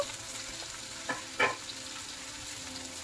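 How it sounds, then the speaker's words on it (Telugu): Onions, green chillies and curry leaves fry in a pan for an egg masala curry, giving a steady, fairly quiet sizzle with a couple of brief stirring scrapes and clicks in the middle, and no voices. "వీటన్నిటినీ కూడా కొంచెం ఫ్రై చేసుకోవాలి"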